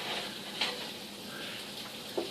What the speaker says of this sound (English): It's over there sizzling away.